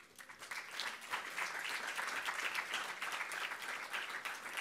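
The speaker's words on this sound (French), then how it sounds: "Je vous demande de les applaudir." A conference audience applauds at a colloquium on the engagement of women from France's overseas territories, producing a dense, even wash of many hands clapping. It sounds fairly distant and soft, sustained throughout without talk.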